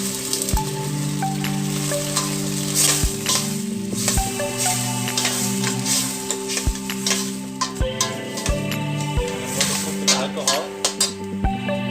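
Vegetables and meat stir-frying in a pan with Chinese cooking wine, a steady sizzle throughout with sharp clinks and scrapes of a utensil against the pan at irregular intervals.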